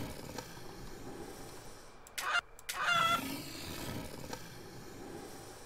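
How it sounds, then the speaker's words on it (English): Chickens spawned in the PC video game Devil's Share make a short cluster of faint clucks and squawks in the middle, over a low, steady game background. "The real question is, how many chickens can I spawn?"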